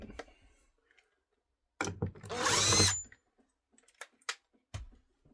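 Power drill backing screws out of camper window blinds, one short loud whine burst of about a second, with scattered clicks and handling knocks before and after.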